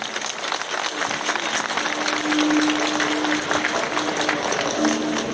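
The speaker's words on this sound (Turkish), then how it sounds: "Sizlerin de onları bir kez güçlü ve biçimde alkışlamasını talep ediyorum." Audience applause at a public gathering about Perşembe Yaylası, a steady, dense wash of clapping held at an even loudness for several seconds, with no voice over it.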